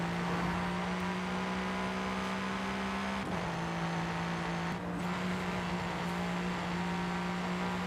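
A steady, low engine drone with a constant hum, slight pitch dips and a burbly tone, a car cruising in Forza Horizon 5, continuous and fairly loud with no talk.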